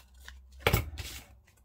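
Scissors snipping through paper scraps and leftover packaging, one quiet close cut with a crisp burst followed by faint rustling, no talking.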